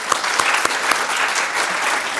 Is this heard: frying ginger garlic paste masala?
no